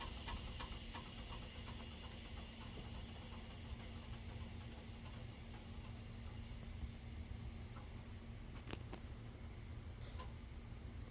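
Air struts on a lowered 1989 Chevy OBS truck release a steady, faint hiss of escaping air as the truck settles, with a low background hum and a few light clicks.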